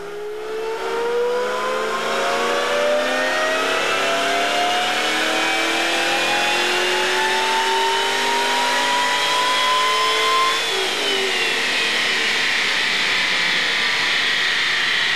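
A car fitted with a Stage 1 supercharger kit running 9 pounds of boost revs hard on a dyno pull, its loud engine note climbing steadily in pitch for about ten seconds before easing slightly, with no talk.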